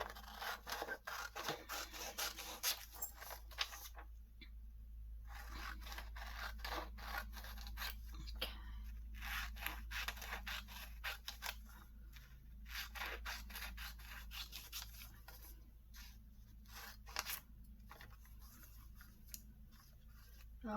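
Scissors cutting up a glossy magazine page, a series of close, crisp snips and papery scrapes in irregular bursts over about twenty seconds, with quiet pauses between cuts and no talking.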